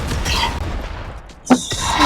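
Video game gunfire, a sharp burst of shots near the middle over a continuous bed of game noise, moderately loud and close, with no one talking.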